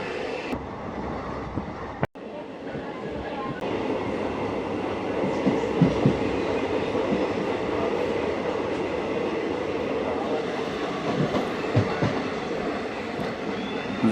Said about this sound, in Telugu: బొలారం నుంచి మన ట్రైన్ బయలుదేరిపోయింది